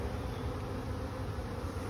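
A soft, steady hum of many honeybees buzzing together outside a hive, a low continuous drone without any talking.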